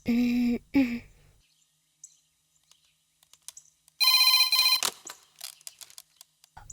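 A phone rings in two short electronic bursts. After a quiet pause comes a brighter, buzzing trill, followed by faint clicks and tapping.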